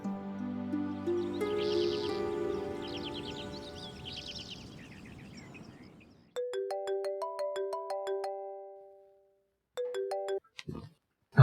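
A phone rings in a Hindi TV drama scene, first a warbling melodic tone with chirpy flourishes, then a series of crisp stepped electronic beeps in short bursts, near and clear, with no talk.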